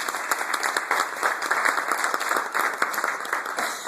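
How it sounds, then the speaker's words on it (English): A room full of people applauds a congressional candidate, steady, moderately loud clapping with a dense, even texture throughout. "please a round of applause for Kystal Ball."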